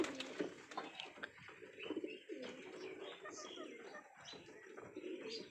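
Racing pigeons coo repeatedly in a loft, soft throaty calls coming close together over a continuous bed of bird noise and faint chirps.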